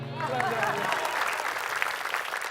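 Studio audience applause on an Indonesian talk show, rising quickly after a brief sustained tone and continuing as a moderate, even patter of clapping for the rest of the short stretch.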